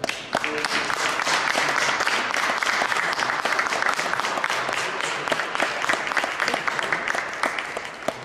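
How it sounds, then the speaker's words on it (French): Crowd applause for children at a mini basketball event, dense continuous clapping that stays loud and even for several seconds, with no voices standing out. "On les applaudit"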